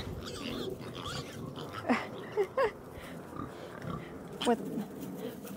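Pigs on a farm give a few short grunts and squeals near the microphone amid low rustling, with a person talking softly in between.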